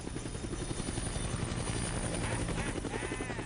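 A helicopter in the video game Dead Rising thrums with a rapid, steady rotor chop, sustained and fairly quiet throughout with no pause.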